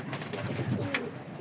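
Pigeons cooing nearby, soft low murmuring coos blending together in a short burst, with faint sharper sounds in the background.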